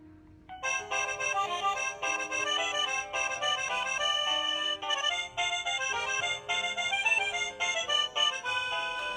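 The default chime of a Tosee smart video doorbell plays a bright electronic melody that runs steadily for several seconds, loud and close, with no voices over it.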